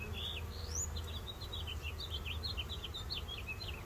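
Honeybees buzz around a beehive entrance during a colony temperament test, a dense steady hum with many insects flying close by, while faint bird chirps sound in the background.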